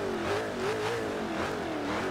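A video game car engine in Forza Horizon revs steadily and loudly with a wavering pitch, rising and falling slightly, sustained throughout with no voices.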